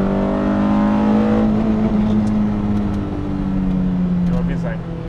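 A BMW 320is E30 with the S14 four-cylinder engine revs loudly and steadily up close, its harmonic drone holding for several seconds before easing slightly near the end, with someone talking over it.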